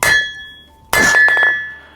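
Hammer forging a steel crowbar, two loud ringing metallic strikes about a second apart, each leaving a bright sustained clang that fades out, close and alone.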